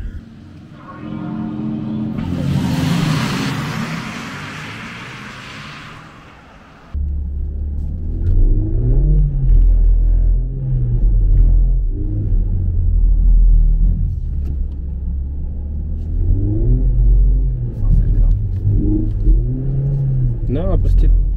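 A Mercedes C63 AMG engine roars and revs hard at full throttle up close, its deep rumble rising and falling while voices talk over it.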